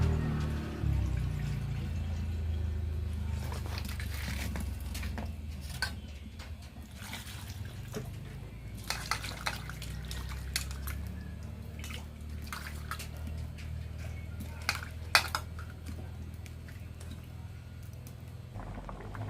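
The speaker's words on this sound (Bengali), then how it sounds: "এখন একটু গরম জলে দেবো, এইটা একটু জল দিয়ে দেবো" Water pours into a cooking pan while making ol kochu, a continuous splashing stream that fades into scattered drips and small clatters close by.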